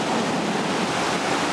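Sea waves on a cloudy day make a steady, loud roar of surf, with wind buffeting the microphone. The sound is broadband and unbroken, and no one speaks.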